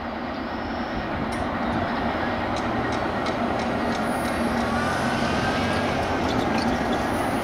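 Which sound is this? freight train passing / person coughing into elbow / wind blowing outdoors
freight train passing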